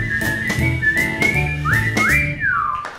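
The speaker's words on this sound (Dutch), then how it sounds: "Kun je fluiten, Johanna, laat zien dat je het kan." A person whistles a clear melodic tune alone, sustained notes with a few upward and downward slides, close and fairly loud throughout.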